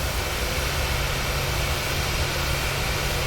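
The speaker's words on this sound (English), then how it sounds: "good engine start on engine 2" A steady, broad roar from a PMDG 737 jet engine holds at an even, close level throughout the cockpit of Microsoft Flight Simulator, with no breaks and no talk.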